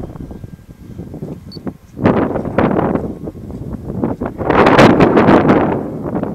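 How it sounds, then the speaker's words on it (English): Strong wind blowing off the coastal cliffs at Morvah, a loud, continuous buffeting roar against the microphone that surges and gusts harder toward the end, with no talking. "You're just getting so much wind coming off of all of this, the cliffs and everything else."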